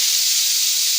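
A pressure cooker boiling potatoes, peas and chickpeas lets out a loud, steady hiss of steam that holds for about a second and then cuts off sharply.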